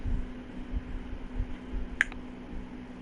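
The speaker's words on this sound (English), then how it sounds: "You don't snap your fingers at me like I'm your wife or something." A single sharp finger snap cracks out once midway through, close and crisp over a low steady hum, with no talking.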